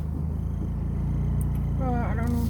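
A car's engine drones steadily while driving, with an odd low rumbling hum running throughout; a voice breaks in near the end.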